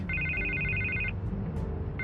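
A telephone rings in a Batman game scene, two clear trilling bursts separated by a short pause, bright and steady over a low background hum, with no talk.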